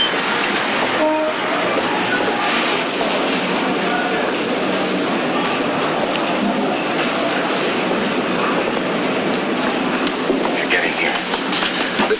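A train rumbles steadily nearby for several seconds, a continuous loud mechanical roar with a brief horn-like tone near the start.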